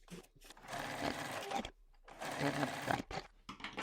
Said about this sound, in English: we're going to go to our sewing machine